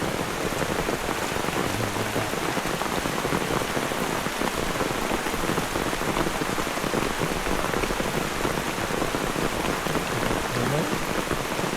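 A loud, unbroken downpour of heavy rain drums steadily on surfaces nearby in a forest, a thick constant roar throughout.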